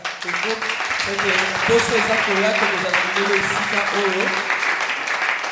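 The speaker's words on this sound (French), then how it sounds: "On acclame le Seigneur." A church congregation at a Sunday service applauds to acclaim the Lord, sustained clapping from the room mixed with voices and a low tonal background, fairly loud throughout.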